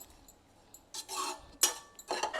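A spoon scrapes and clinks against a pan while grated coconut is stirred and roasted for laddu, a few faint scraping strokes with a sharper metallic clink, near and quiet.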